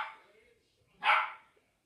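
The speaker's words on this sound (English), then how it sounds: "Oh, the dog's so annoying." A dog barks twice nearby, a short faint bark followed by a louder, sharper one about a second later, then quiet.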